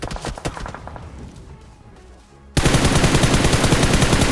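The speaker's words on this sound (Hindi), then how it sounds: "अब वहां से फायरिंग आती है अगेन" Bursts of automatic gunfire in the mobile battle royale game BGMI. Distant rapid shots give way to quieter scattered pops, then a sudden loud, dense stream of machine-gun fire rattles without a break.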